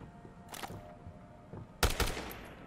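Machine gun fire in the video game Dead Rising Deluxe Remaster comes as two rapid bursts, a quieter one early and a louder, sharper burst of cracking shots later, over low game ambience with no talking.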